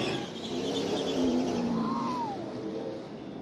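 NASCAR Xfinity Series stock cars in the BetMGM 300 race roar past on track, a steady engine drone with one rising and falling pass-by whine, loud and continuous.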